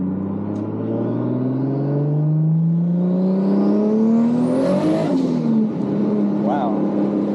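A 1000hp Toyota Supra accelerates hard on a test drive, its engine note climbing steadily through a long pull to a high-pitched peak before a gear change, loud and close from inside the car.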